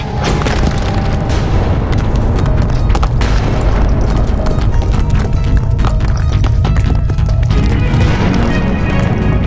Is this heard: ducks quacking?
no